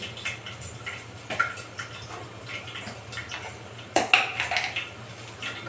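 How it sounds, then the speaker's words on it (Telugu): Dishes and pots are washed by hand, with close clinks and clatters of metal and crockery, some sharper knocks, and splashing water throughout. "ఎప్పటికి ఇట్లనే గిన్నెలు క్లీన్ చేసుకోవాలి"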